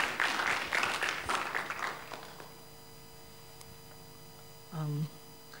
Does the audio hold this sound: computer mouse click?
no